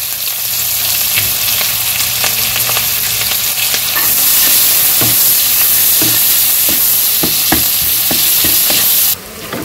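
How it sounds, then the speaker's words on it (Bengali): Chopped onions fry in a pan with cumin for a village-style egg curry, a loud continuous sizzle close up with repeated scraping stirs and clatter throughout, ending in a brief drop. "তো এই যে পেঁয়াজ ভাজা হয়ে গেছে"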